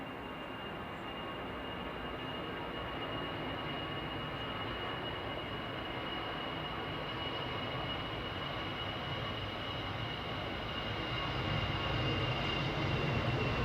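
A Vueling passenger jet on its takeoff roll at Manchester Airport, a distant, continuous engine rumble with a faint steady whine that swells slightly toward the end.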